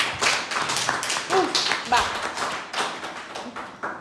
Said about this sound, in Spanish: ¿Me podéis dar un aplauso para que me dé tiempo,